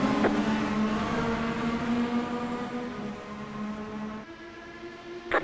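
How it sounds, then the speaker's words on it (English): Race cars running on a track after a green-flag restart, a steady loud engine drone with a sustained pitch that shifts as cars pass, held through the whole stretch with no talk. "We're racing Kyle Busch for position right now"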